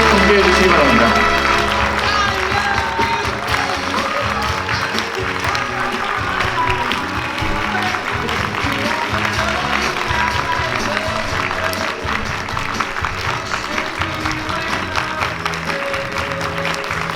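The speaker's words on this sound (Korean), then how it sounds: "신랑 신부 행진! 여러분 박수로 함께 해주시기 바랍니다" Wedding guests applaud steadily through the bride and groom's recessional march at a Seoul wedding hall, a dense, sustained wash of clapping that holds at full level throughout, with voices mixed in.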